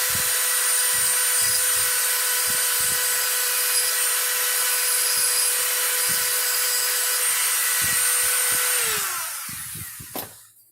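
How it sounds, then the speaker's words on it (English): A Dremel grinder grinds glass during flintknapping, giving a loud, steady, high motor whine with intermittent scraping contact and then spinning down near the end. The sound is close, with no talking. "I come back with my grinder and I fix it"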